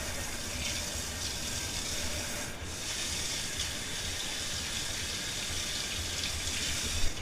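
Running water pours and splashes steadily as homebrewing equipment is rinsed under a tap, a continuous close gush with a brief dip midway and no voices.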